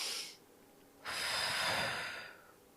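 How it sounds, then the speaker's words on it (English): A single deep breath, a brief exhale followed by a long, slow, airy inhale-like rush of breath, close and soft in a quiet room with no speech. "So let's take a deep breath."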